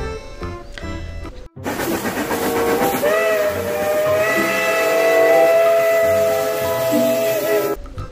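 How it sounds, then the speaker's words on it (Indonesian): A loud steam train whistle blows in a long, steady sustained tone with harmonic overtones, preceded by a brief shorter blast. "ini kereta api uap teman-teman"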